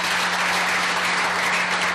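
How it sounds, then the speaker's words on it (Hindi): Sustained, dense applause from a gathered audience honoring management at a Greentouch Projects company event, loud and steady throughout with a faint low hum underneath and no talk. "मैनेजमेंट के लिए एक बार जोरदार तालियां।"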